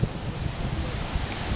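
Steady wind noise outdoors by a lake in Michigan on a cloudy day, a constant low rumble buffeting the microphone with faint rustling throughout.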